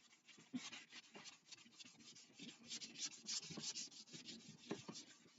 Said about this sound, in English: what we're going to do is pretty much just sand down our fore-end